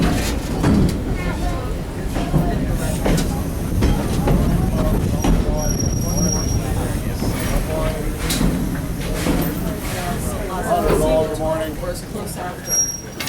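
A passenger ride aboard the Edison locomotive train at Greenfield Village: steady rumble, clicking wheels and rattling cars roll on for over ten seconds, with scattered squeaks and voices talking among the riders.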